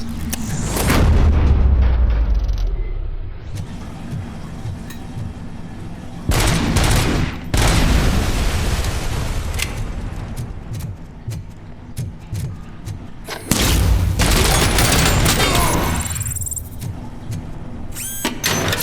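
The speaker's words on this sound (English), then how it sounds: "making use of those flashbangs." In the RoboCop: Rogue City video game, flashbangs go off in loud bursts amid rapid gunfire, with several sharp blasts breaking through a chaotic, continuous barrage of shooting.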